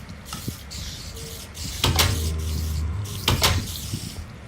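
Two wooden door clicks from the Minecraft game, each a brief sharp clack, sound over steady game background noise, separated by about a second and a half.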